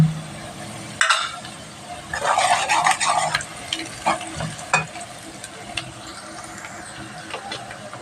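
Chopped onions and green chilies fry in a hot pan, a loud, close sizzle broken by the scrape and clatter of a spoon stirring them around.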